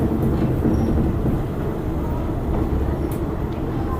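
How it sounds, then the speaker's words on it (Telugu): A train on the Death Railway near the Kwai River Bridge at Kanchanaburi, Thailand, gives a steady rumble of wheels on track at moderate distance, with faint background noise throughout. "సో అది ఆ ట్రైన్ చూడండి ఎలా టర్నింగ్ తీసుకుంటుందో."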